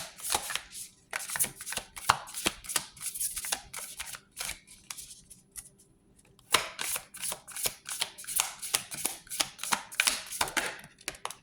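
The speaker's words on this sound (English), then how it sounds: "Let's pull some goddess oracle cards." Goddess oracle cards shuffled by hand for a tarot-style reading, a long run of quick papery riffles and slaps, close and fairly loud, with a short pause near the middle before the shuffling resumes.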